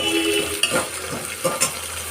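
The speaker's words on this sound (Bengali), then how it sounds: "আলু, গাজর, পেঁপে এই দিয়েছি, আর পেঁয়াজ দিয়েছি। এই দিয়ে একটু ভাজা ভাজা হোক সবজিটা" Potato, carrot, papaya and onion fry in a pressure cooker, giving a close, constant sizzle broken by a few sharp clinks and scrapes of a stirring utensil against the metal.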